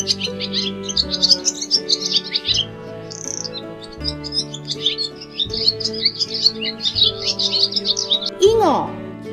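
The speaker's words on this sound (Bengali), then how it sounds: "ঘয়ে ঘুঘু পাখি ডাকছে গাছে।" A dove calls from a tree in a rapid, bright, continuous run of chirping calls over a sustained musical backing, ending with a short rising call.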